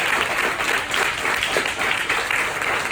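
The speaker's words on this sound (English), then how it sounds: "Let's give them another round of applause." Sustained audience applause for storytellers at an evening storytelling event, a dense, steady wash of many hands clapping close and loud throughout, with no talking over it.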